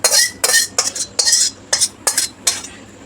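A metal pan of caramel for sweet yogurt (mishti doi) comes off the stove and is set down, giving a quick run of bright clinks and scraping knocks, close and fairly loud, with no voices.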